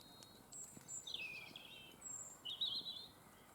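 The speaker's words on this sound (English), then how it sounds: "Those blackbirds." A blackbird sings in quiet evening air at sundown beside an old church, a few clear whistled phrases with pauses between, moderately distant and soft.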